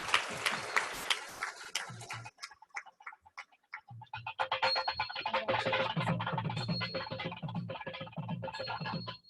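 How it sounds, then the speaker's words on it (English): Scattered clapping from a convocation audience at a college of management. It thins out into a few claps, then builds into steady, dense applause under a hum of crowd noise. "A huge round of applause to Shifali."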